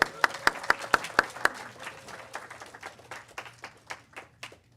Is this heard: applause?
yes